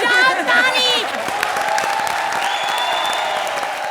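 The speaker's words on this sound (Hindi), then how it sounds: "बजाओ ताली भाई लोग बजाओ ताली" An audience on a comedy show breaks into clapping and cheering, a brief burst of applause with whoops under voices at the start, fading into a softer patter of claps.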